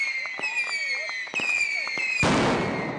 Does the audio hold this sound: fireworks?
yes